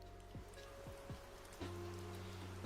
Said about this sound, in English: Should we get some rain sounds going?